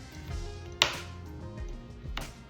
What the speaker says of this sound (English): I'm gonna just cut up this butter into small pieces.